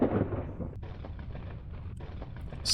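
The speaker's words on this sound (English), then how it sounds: "Stock lightning sound effect." Stock lightning crash in the game Echostasis: a heavy thunderous boom opens, then a rumbling, crackling tail fades over a few seconds with no voices.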